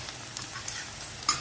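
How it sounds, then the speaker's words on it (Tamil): Ginger and garlic tossed into a pan of sautéed onions for Chettinad potato curry, a brief steady frying hiss with light stirring ticks and a sharp utensil clink at the end, close and without speech. "இப்போ நம்ம எடுத்து வச்ச இஞ்சி பூண்டுகளை போடுறோம்."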